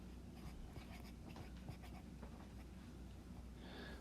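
A pen scratches over paper in a string of short, quick strokes, steady and close, with no one talking.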